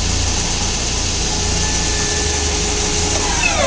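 A Bridgeport Romi EZ Path III S lathe, 23 by 120 inches, spindle running steadily at 1,000 RPM, a quiet even mechanical hum and whir close by with no talk.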